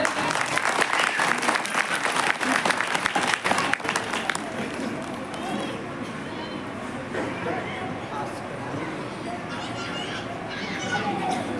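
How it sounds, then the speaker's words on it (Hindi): Applause from the audience at a Hindi poetry gathering (kavi sammelan) for a poet, dense and loud for about four seconds, then fading into softer scattered clapping and crowd murmur. "जोरदार तालियां उनके लिए।"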